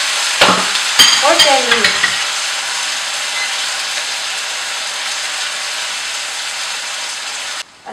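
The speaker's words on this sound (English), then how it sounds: "Now, I will saute the potato. And onion." Potato and onion sauté in a pan with a loud, steady sizzle, with a few stirring scrapes at the start and a voice briefly speaking over it.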